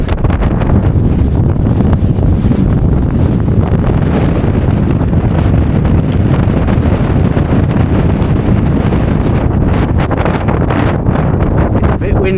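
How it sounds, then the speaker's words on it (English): Strong wind roars continuously against the microphone on the hillside of Pen-y-Ghent, a heavy rumbling gust that never lets up, with rustling bursts throughout. "the wind's getting pretty high, so give you a feel for the wind"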